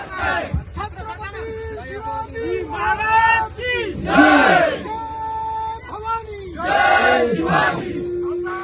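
Shiv Sainiks gathered in a big crowd at an election corner rally in the rain near Kalamnuri, Hingoli, shout slogans together in loud, close bursts, with pauses between the rhythmic chants.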